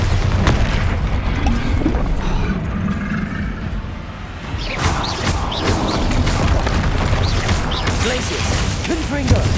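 A Bombarda spell explosion in Hogwarts Legacy bursts with a loud booming blast and crashing debris, continuous heavy rumble throughout with a brief dip midway before the roar returns.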